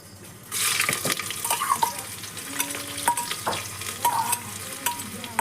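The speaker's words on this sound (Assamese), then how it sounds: "ভাজি থোৱা পিঁয়াজখিনি দি দিলোঁ।" Fried onions and spices go into a hot frying pan for goat curry, with a steady sizzle and frying hiss under scraping stirs and light clinks of a utensil against the pan, close and without talk.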